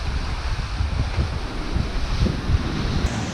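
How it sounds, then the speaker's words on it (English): A brisk north wind buffets a lakeside camp on the Bruce Peninsula, a steady low roaring rush with gusty rumbles, loud and close with no voices. "We've had this brisk north wind coming dead on camp all morning and all day"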